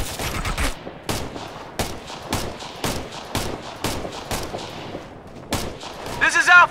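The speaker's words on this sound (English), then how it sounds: "We're getting shot at." Repeated gunshots ring out in Operation Flashpoint: Red River, sharp loud reports spaced roughly half a second to a second apart, with a crackle of radio-like voice near the end.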